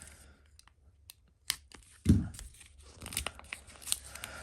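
A vintage basketball card repack is torn open, with scattered crinkles and small rips of wrapper followed by a loud sharp tear and more crinkling, close up and without any voice.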